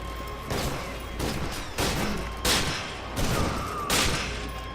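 A pump-action shotgun fires in the F.E.A.R. 2 video game, six loud booming blasts spaced evenly about once every second over constant game background noise.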